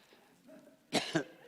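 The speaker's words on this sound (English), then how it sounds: "I'm coughing too much" Two sharp coughs close together, loud and near, after a quiet stretch with faint background sound.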